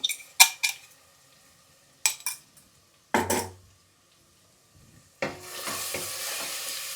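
Ivy gourd (tondekayi) dropped into hot oil and stirred: several sharp clinks and scrapes of a spoon against the pan, then a sudden loud, sustained frying sizzle that continues to the end, close up with no talking.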